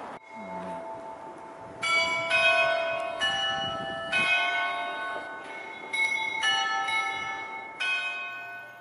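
Church bells of St. Michael's Golden-Domed Monastery in Kyiv, Ukraine, ring out the Ukrainian national anthem in a series of melodic peals heard from a distance, with a low hum of city noise underneath.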